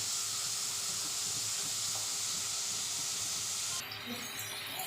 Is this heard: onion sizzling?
yes